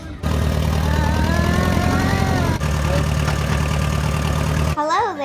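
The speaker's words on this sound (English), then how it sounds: "Let's go on the tractor-drawn wagon ride." A tractor engine pulling a wagon on a farm hayride at a fall harvest festival drones with a steady, close, low idling rumble, briefly dipping midway and cutting off near the end, with faint voices around it.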